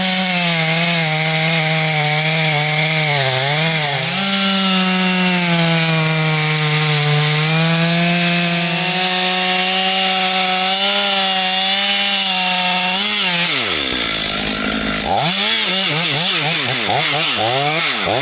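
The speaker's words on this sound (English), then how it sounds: "The saw snarls as it bites into the old wood." A small chainsaw cuts through a massive old log, its engine droning loud and close with a steady rising-and-falling pitch as it bogs under load, then revs freely near the end.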